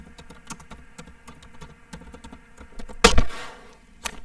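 Typing on a computer keyboard while entering a short label, scattered key clicks at an uneven pace with a louder burst of keystrokes near the end, close and clear with no talking.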